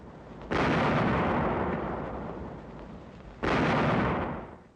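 Naval guns on Coast Guard cutters firing on a German trawler at sea in 1944, two heavy booming blasts several seconds apart, each followed by a long rumbling decay, sounding distant and muffled as in an old recording.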